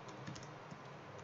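Typing on a computer keyboard while entering a name in aircraft design software: quick, light keystrokes tapping in an uneven run, faint and close under a steady background hiss.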